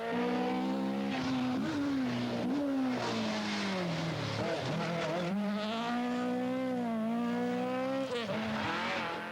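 A Toyota Celica rally car revs hard at a 1982 rally, its engine note rising and falling through gear changes, loud and continuous.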